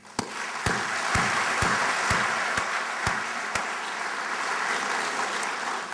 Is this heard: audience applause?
yes